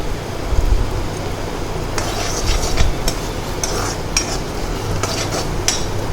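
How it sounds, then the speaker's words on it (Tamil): Egg noodle masala stirred in a pan gives a low bubbling sizzle, with a spoon scraping and clinking against the metal at irregular intervals. "இது இப்படி நல்லா கிண்டிகிட்டே இருங்க"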